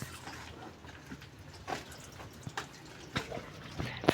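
Water poured onto plants on a farm makes scattered splashes and drips, soft and irregular, with a few louder spatters and a sharper knock at the end.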